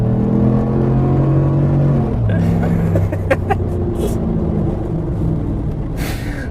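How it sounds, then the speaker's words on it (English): Lifted PaxPower Jackal off-road conversion of a 6.2L Silverado LTZ pickup rumbling past close by, its engine note dropping as it goes, then a rougher tire and road rush with a few sharp clicks. "It's pretty quick for being a giant truck"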